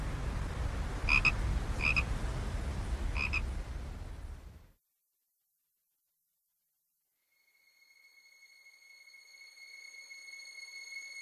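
Frogs croaking on the bank of the Vistula river, a few short pulsed croaks over a loud, steady wash of ambient noise, then a sudden silence and a thin sustained tone fading in.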